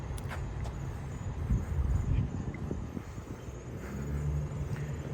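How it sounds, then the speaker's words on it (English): A car passing on a street at night in Little Havana, Miami, its low rumble swelling and fading under wind noise, fairly faint and steady without talk. "That car over there slowed down when it saw you."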